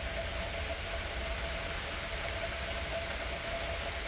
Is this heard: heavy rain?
yes